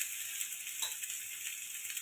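Potatoes and onions frying in a pan for a spiced curry, a steady soft sizzle with a faint stir partway through, quiet and close.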